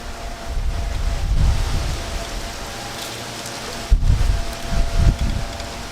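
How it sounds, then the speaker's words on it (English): Wind gusting outdoors during a curbside repair of a Stihl BG55 leaf blower, heard as a steady low rush with louder buffeting surges and microphone rumble, no talking. "The wind's kicking up."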